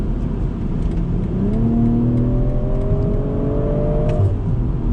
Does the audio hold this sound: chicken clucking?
no